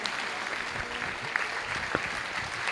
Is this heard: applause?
yes